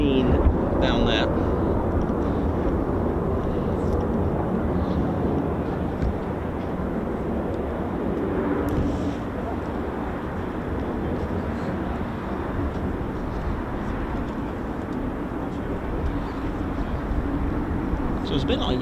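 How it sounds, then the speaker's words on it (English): An F-15 fighter jet flying over RAF Lakenheath, heard as a loud, steady broadband engine roar that holds for the whole stretch, with a faint voice now and then over it. "F-15 down there."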